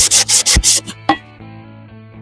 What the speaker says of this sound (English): you just sand along the edges until you've sanded through